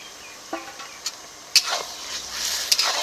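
Light scraping and stirring of a garlic and dried-chilli paste with salt, turmeric and a splash of water frying in a pan, a few soft scrapes spread over a quiet, faintly sizzling background.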